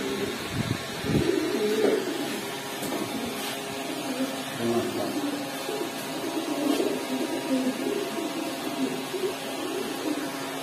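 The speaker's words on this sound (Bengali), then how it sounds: "ভাই এখানে একজোড়া কালো বসা কবুতর আছে" Pigeons at a pigeon market coo in a soft, continuous murmur amid steady market bustle, with a brief louder handling noise early on and faint voices in the background.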